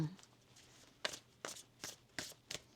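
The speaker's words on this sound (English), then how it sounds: "One more shuffle here, please" Tarot cards are shuffled in a series of crisp riffling bursts, about five evenly spaced, close and fairly quiet against a soft room background.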